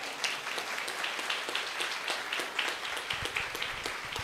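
A seminar audience applauds, a fairly quiet room of steady clapping with a few sharper individual claps standing out, continuing evenly for a few seconds without voices.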